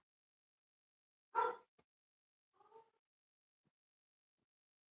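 Dog barking indoors in short excited bursts: one loud sharp bark, a small yip, then a softer second bark after a pause, with quiet between.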